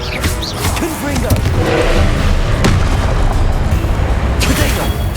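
A loud, dense blast from the Confringo spell in Hogwarts Legacy, with a rumbling burst and crackling debris that fill the clip, close and heavy. A few faint pops sit near the end.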